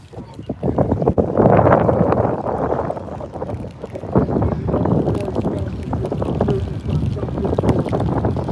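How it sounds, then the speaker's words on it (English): Strong seaside wind roars and buffets the microphone steadily at a coastal cyclocross race in South Shields, a loud continuous rush with gusts swelling and easing. "It's quite a windy day."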